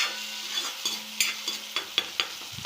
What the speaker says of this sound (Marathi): आपला कांदा आणि टोमॅटो चांगले झाले, आता परतून घ्यावे